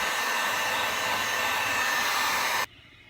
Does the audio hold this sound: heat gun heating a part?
yes